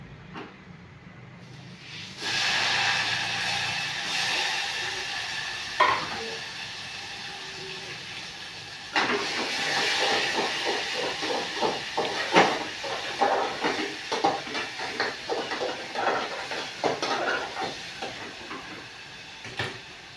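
Tomatoes fry with garlic in a pan, making a steady hissing sizzle that starts after a quiet moment and grows into a louder, crackling frying sound for the rest of the clip.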